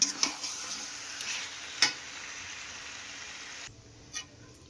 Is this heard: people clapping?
no